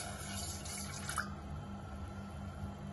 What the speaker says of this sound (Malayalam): ഇതിലേക്ക് ഞാൻ ഒരു ഗ്ലാസ് വെള്ളം ഒഴിച്ചു കൊടുക്കുകയാണ്